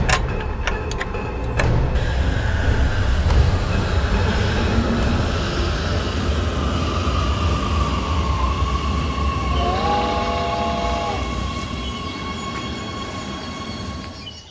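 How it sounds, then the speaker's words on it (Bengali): A train rumbles in with a heavy, steady rolling roar, and a long horn blast sounds near the end as it slows. "সকালে ট্রেন এলো।"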